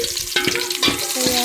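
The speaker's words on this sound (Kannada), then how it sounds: "ಲೋ ಫ್ಲೇಮಲ್ಲಿ ಇಟ್ಕೊಂಡು ಸ್ವಲ್ಪ ಫ್ರೈ ಮಾಡ್ಕೊಬೇಕು" Something frying on a low flame in a home kitchen, a close, continuous sizzle broken by a few stirring scrapes and knocks at an even pace, with no talking.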